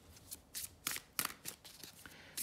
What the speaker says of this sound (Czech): Já si k tomu ještě doložím další karty.